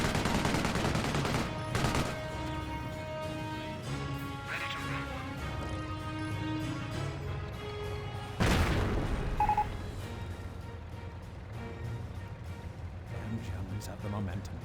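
Gunfire in Company of Heroes, with an MP40 squad trading shots against a scoped rifle squad, crackles in scattered bursts and a couple of sharper cracks beneath steady tonal game music and talk.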